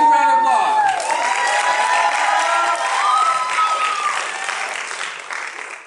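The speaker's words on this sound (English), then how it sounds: "Let's give a round of applause" Audience applause with cheering and whoops at the Destination Imagination Global Finals 2014, a loud, sustained crowd roar that slowly fades over several seconds.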